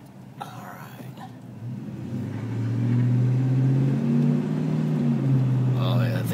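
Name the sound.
2004 Dodge Ram 5.7L HEMI truck engine accelerating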